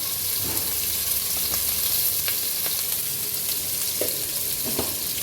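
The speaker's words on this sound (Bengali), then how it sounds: "পেঁয়াজ দিয়ে দিলাম, কাঁচামরিচ দিয়ে দিলাম" Onion and green chillies sizzle in hot oil with a loud, steady frying hiss, broken by a few soft stirring taps.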